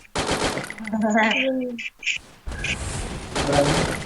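Rapid bursts of video game gunfire crackle in short volleys, with a voice talking excitedly over them.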